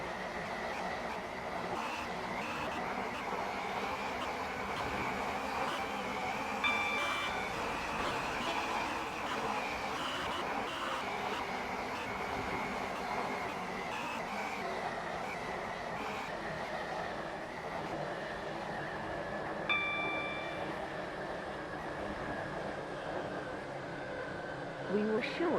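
Roblox Stepford County Railway train on the Waterline service from Esterfield to Newry, a steady onboard rumble and hum of the running train, with recorded announcements heard over it.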